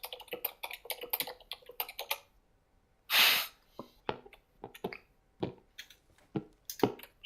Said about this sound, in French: J'ai un super clavier.